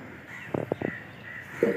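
Crows caw near trees, three quick harsh calls in a burst followed by another caw a moment later, fairly close against a soft outdoor background.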